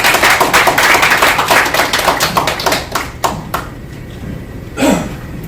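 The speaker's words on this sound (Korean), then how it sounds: "뜨거운 박수로 한번 정리해 주십시오" Audience applause at a Korean policy forum on Seoul education superintendent election polling, loud dense clapping from a crowd that thins into scattered claps and fades out near the end.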